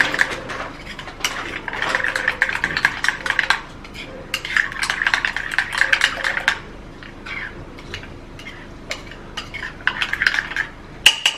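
A spoon stirring a baking soda and green tea mixture in a bowl, giving rapid, repeated clinking and scraping strokes that come in bursts, close and fairly loud, with no talking.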